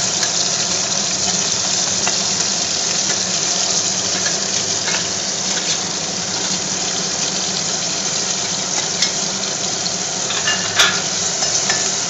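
Onions and tomatoes stirred into hot oil, frying for a drumstick and mutton curry, give a steady, close sizzle with soft scraping from the stirring that carries on without a break and with no talk.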